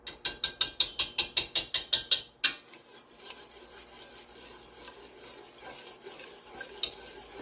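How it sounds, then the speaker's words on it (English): A whisk beats broccoli cheddar soup in a pot as it thickens, first a fast steady run of sharp, close clicking strokes, then a softer continuous stirring scrape. "I think I'm adding about a half a cup at a time to whisk it."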